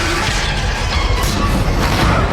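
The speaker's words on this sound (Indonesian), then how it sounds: "Jadi ada tembak-tembakan, bom meledak, tangki berjalan, orang-orang berteriak, api menyala gitu ya." An AI-generated war scene with gunfire, exploding bombs, moving tanks, shouting people and burning fire comes through as a loud, dense rumble broken by short crashing bursts.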